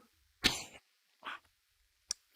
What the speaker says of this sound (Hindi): सॉरी बच्चों, आज खांसी ज्यादा आ गई।